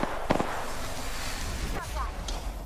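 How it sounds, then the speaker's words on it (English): Gunfire in the shooter game Apex Legends comes as a few short, sharp bursts and pops scattered across the moment, with voices talking over it. "They're shooting."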